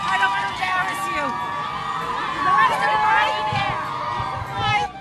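Families and friends gather in an airport arrivals terminal, waiting for incoming travellers; a steady, dense murmur of many voices fills the hall, with occasional louder calls and shouts rising above the babble.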